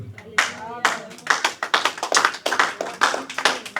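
A church congregation claps loudly and close to acclaim the Lord during a miracles-day testimony service, the applause dense and rhythmic, with voices mixed into the din.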